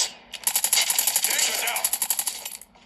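Rapid automatic gunfire from the mobile shooter Call of Duty Mobile rattles in a dense, fast burst of evenly spaced shots lasting over two seconds, loud and close, with brief quieter gaps at the start and end.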